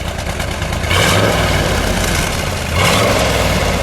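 A red 1965 Chevrolet Corvette with a fuel-injected engine and 4-speed idles loudly and close up, a deep steady rumble that swells slightly twice as the revs lift.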